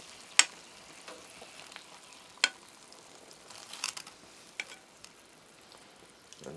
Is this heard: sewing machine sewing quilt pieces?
no